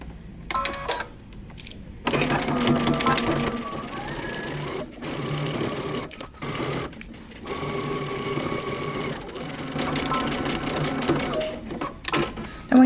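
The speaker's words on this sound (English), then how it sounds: "We're going to be sewing using 5/8 of an inch seam allowance" Sewing machine stitches a pant facing seam at a 5/8 inch seam allowance, running in several close, steady whirring bursts with short pauses between them.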